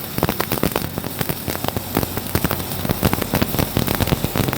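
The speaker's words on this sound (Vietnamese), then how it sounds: "Cái tiếng máy rất là êm, cái tiếng nổ cái que hàn nó rất là êm." A Zarc 3200 stick welder's arc crackles and sputters loudly and continuously while welding, a dense run of sharp irregular pops close to the listener, alone without speech.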